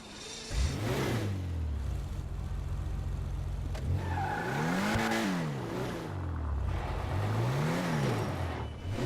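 An Ubermacht Zion Classic in the GTA 5 Online video game drives with a mid-pitched engine revving up and down in repeated swells, loud and close, with no voices over it.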